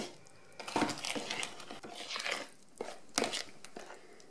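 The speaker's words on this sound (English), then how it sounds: "pour in the wet, and you want to mix this until it's combined well" Gluten-free double chocolate muffin batter being stirred in a bowl, with scraping and clinking of utensil against the bowl in irregular bursts, close and moderately quiet, no talking.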